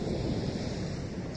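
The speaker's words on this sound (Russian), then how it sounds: "Как я обожаю море, такой шторм." A stormy sea breaks on a beach in Spain, a dense, steady roar of surf mixed with wind buffeting the microphone, heard alone for a moment.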